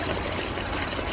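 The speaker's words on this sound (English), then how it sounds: "when it goes through the rocks especially, it helps clean and aerate the water for the fish really well" Water pours and trickles steadily through the rocks of an aquaponics system, a continuous close splashing flow with no pauses.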